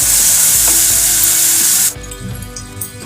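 Masala paste sizzling loudly in a hot pan for fish curry, with a steady bright frying hiss that cuts off abruptly partway through, leaving quieter stirring and scraping clatter.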